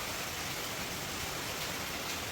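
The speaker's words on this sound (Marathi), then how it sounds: "आता पावसानं जरासं थांबावं म्हणजे आता जाईल हो पाऊस उघडेल थोड्या वेळानं" Steady rain falling on an open terrace, a dense, even hiss of water that stays constant and loud throughout with no voices.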